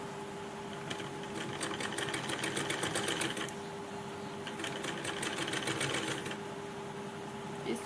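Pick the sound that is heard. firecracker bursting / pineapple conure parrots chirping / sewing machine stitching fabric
sewing machine stitching fabric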